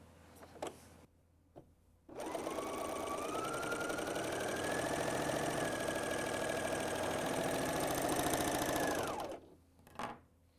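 A BERNINA L 660 overlocker sews a stretchy seam with 4- or 3-thread overlock, a few soft handling clicks leading into about seven seconds of steady, fast mechanical whirring that then stops, followed by a brief knock.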